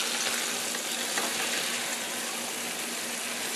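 A hamburger patty packed with wet ingredients sizzles in a hot pan as it is flipped, a dense, steady frying hiss heard close up and unbroken.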